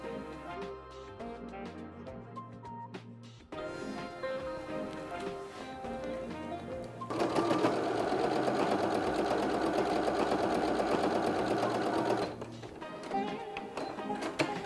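A sewing machine stitching piping onto a quilted hotpad runs in steady close mechanical bursts, pausing briefly and then running faster and louder for several seconds before slowing again.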